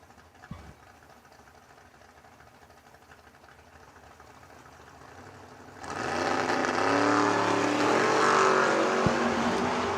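Drag race cars, including Leon Robertson's Nashville-based Monza, at a bracket race; an engine rumbles faintly at first, then roars loudly as the cars launch and keep running hard down the strip.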